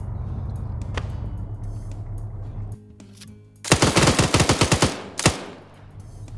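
Rapid gunfire rattles in a dense burst of about a dozen close shots during an Arma military PvP match, followed by a single sharp blast after a short pause, over a low ambient rumble.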